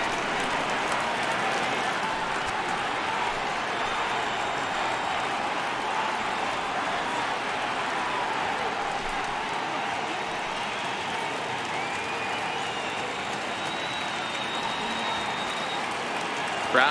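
Baseball crowd in MLB The Show 18 during a Marlins at Cardinals game, a loud steady roar of cheering stadium fans holding at a constant level throughout, with no pauses or distinct voices standing out.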